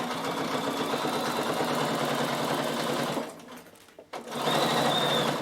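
A sewing machine stitching an upcycled backpack runs in a fast steady hum close by, pauses briefly near the end with a click, then resumes stitching at full speed.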